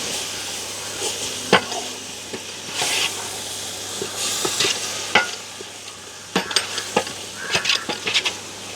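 Curd being stirred into quail biryani masala in a pot, heard as intermittent scraping strokes with a faint sizzle underneath, no talking.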